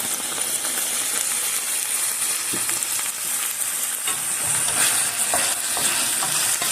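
Beef tibs with black pepper sizzle loudly in a pan while being stirred, a continuous bright frying hiss broken by scraping and light clinks of the utensil, no voices.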